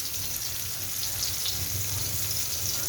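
Masala-stuffed bitter gourds sauté in a pan of hot oil, giving off a steady, even sizzle with faint crackles, close and continuous with no talking.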